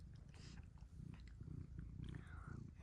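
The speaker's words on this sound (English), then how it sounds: "Just stop purring!" A quiet, close cat purr, a low rhythmic rumble pulsing steadily, with faint soft sounds mixed in.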